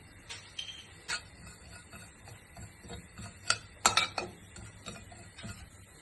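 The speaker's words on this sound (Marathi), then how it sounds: "आता या शहाजिरा तडतडला की गॅस बारीक करायचो" Shahjeera seeds crackle in hot ghee in a kadai, giving scattered sharp pops and clicks over a quiet background, sparse at first and then clustering in a brief burst.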